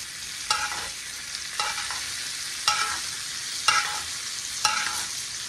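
Steak sizzling in a hot cast iron skillet with butter and thyme, a constant frying hiss marked by five evenly spaced splashy bursts as the butter is spooned over.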